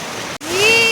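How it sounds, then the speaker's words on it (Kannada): A village stream surging forcefully, a loud continuous gushing rush that cuts out for an instant and then returns, with a rising whistle-like tone laid over the flow. "ಈ ರೀತಿ ಫೋರ್ಸಾಗಿ ಹರಿತಿತ್ತು ನೀರು, ಫುಲ್ ಫೋರ್ಸಾಗಿ ಬರ್ತಿತ್ತು ನೀರು"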